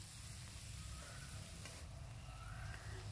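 Schezwan fried rice tossed in a pan with Schezwan fried rice masala, a soft continuous sizzle with faint scraping of the spatula, low and steady throughout with no talk.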